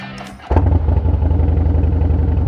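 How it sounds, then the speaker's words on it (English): A 2010 Harley-Davidson Rocker C motorcycle with straight-shot exhausts cranks over and fires, then settles into a loud, close, lumpy V-twin idle with a steady throbbing rhythm. "So let's crank the bike up."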